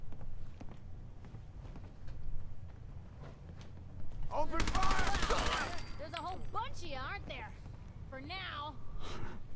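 Rapid gunfire bursts in Fallout 4 come in quick clusters over a noisy battle scene, mixed with voices shouting and talking across the fight.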